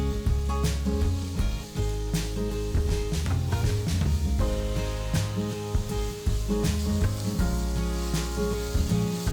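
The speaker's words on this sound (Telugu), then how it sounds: "సన్నగా తరిగిన 1 ఉల్లిపాయ, సన్నగా తరిగిన 2 పచ్చిమిరపకాయలు, కొన్ని కరివేపాకులు వేసి ఉల్లిపాయలు 1 నిమిషం పాటు వేపాలి" Chopped onion, green chillies and curry leaves fry in a pan for wheat rava khichdi, with a steady sizzle and some stirring. Loud background music plays over the frying.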